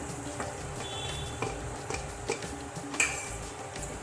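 Fried bitter gourd peel bhurji being stirred in a pan, with steady scraping and light sizzling, a few sharp utensil clicks against the metal, close and continuous with no talking.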